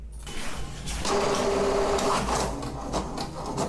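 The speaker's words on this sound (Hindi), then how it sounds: "प्रिंटर ने खींच लिया है" An HP DeskJet 2332 inkjet printer pulls in a sheet of paper with a close, steady motor whir and a rising feed tone after a short quiet start, with no talking.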